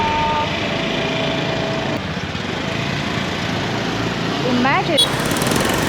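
Motorbike engines drone steadily in Ho Chi Minh City traffic, a loud, continuous buzz of small engines with a brief horn near the end, and a voice speaks over it.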